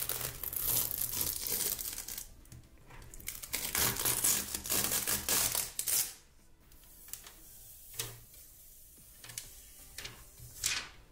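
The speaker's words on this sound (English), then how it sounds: "We'll need to remove the plastic protective film over our new graphics card before we get it installed." Plastic protective film peeled and crinkled off a new graphics card being fitted into an ageing Mac Pro, a close, continuous rustling crackle for several seconds that then gives way to a few sparse crinkles and soft handling noises.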